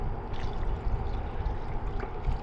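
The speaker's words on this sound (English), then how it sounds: "Okay then, in with the water." Water pours from a can into a pot of creamy beetroot curry, a close, steady gurgling splash lasting a couple of seconds.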